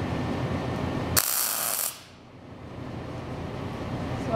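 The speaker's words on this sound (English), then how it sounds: "as soon as I pull this trigger, it's going to start welding" A welder starts welding at the trigger pull, giving a sudden loud bright hiss and crackle that lasts under a second over a rumbling background, then cuts off to a quieter hum.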